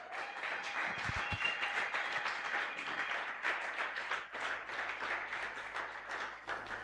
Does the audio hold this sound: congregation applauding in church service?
yes